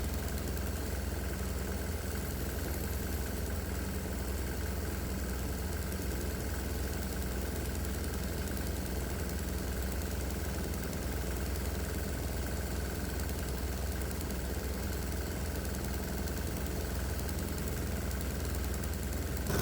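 A diesel engine fitted with a vaporizer runs at a steady idle, a constant dense mechanical drone with no change in pace and no voices.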